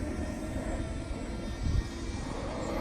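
An Open Aero VTOL model plane flies at low altitude, its steady motor drone filling the air evenly with a slight swell in the middle and no speech.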